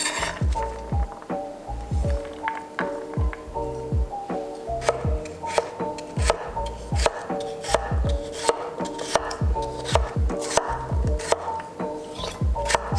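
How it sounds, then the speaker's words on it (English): Knife dicing carrots on a cutting board, rapid repeated sharp chopping knocks in an uneven rhythm, close and fairly crisp, with no talking. "So as you can see, they're all getting cut into the same diced shape and size."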